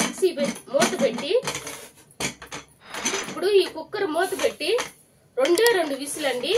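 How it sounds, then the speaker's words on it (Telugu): A metal pressure cooker lid being placed and fitted onto the cooker while cooking drumstick leaf rasam, with clattering metallic clinks and scrapes in short bursts, some close and sharp, between brief pauses. "ఇప్పుడు ఈ కుక్కర్ మూత పెట్టి"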